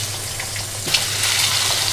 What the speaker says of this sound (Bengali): ডিমগুলোকে ভালো করে ভেজে নেব।